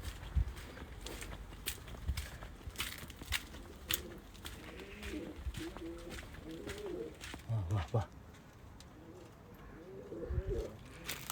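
Soft pigeon cooing comes in repeated low murmurs among clicks, thumps and handling noise, fairly close.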